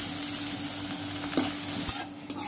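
Onions frying golden in a pan while making parwal masala curry, a steady close sizzle with light stirring scrapes and a few soft knocks, no voices.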